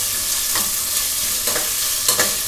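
Onions sautéing with ginger-garlic paste in a pan, a steady close sizzle broken by a few soft scraping stirs, no voices.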